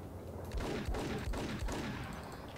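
Gunfire in the video game Max Payne, fired from a crouch: several loud, heavy shots in quick succession over a steady background of game ambience, with no talking.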